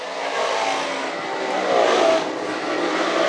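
358 Modified race cars roaring down the back straightaway into turns three and four at Can-Am Speedway, a loud sustained engine drone that swells and fades slightly as the pack passes, with no commentary over it.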